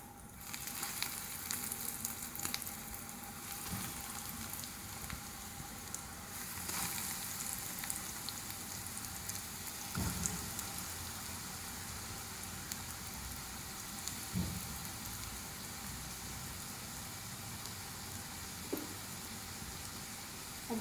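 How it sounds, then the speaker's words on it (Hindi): Potato and chickpea kebabs frying in hot oil over a medium flame, giving a steady, soft sizzle and crackle throughout, with a few faint pops and no talking. "अब इसको फ्राई कर कबाब बनाना स्टार्ट करते हैं। ऑयल हमारा गर्म हो चुका है।"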